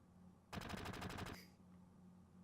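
A rapid burst of about ten gunshots in Final Fantasy VII rattles off in quick succession over roughly a second, then fades into quiet game ambience.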